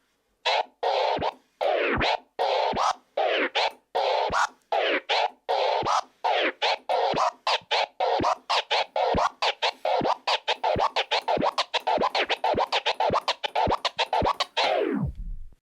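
Rapid DJ scratching on a jog wheel, a long run of quick back-and-forth record cuts in a choppy rhythm, loud and up close, ending with a pitch-dropping drag.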